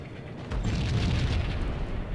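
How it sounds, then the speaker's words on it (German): An explosion goes off in the video game Max Payne, a sudden deep boom that swells after half a second and then rumbles on heavily and loudly to the end, with no talk over it. "Da explodiert schon wieder was."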